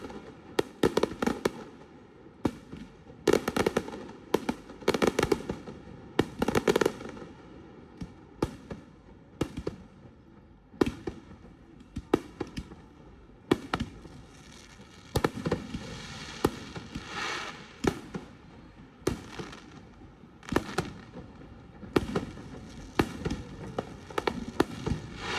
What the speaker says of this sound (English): because Friday nights they have a fireworks show